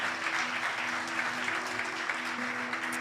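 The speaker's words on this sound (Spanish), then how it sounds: "dale un fuerte aplauso al Señor" Applause from a church congregation during a women's ministry service, steady and fairly faint, with a low hum underneath.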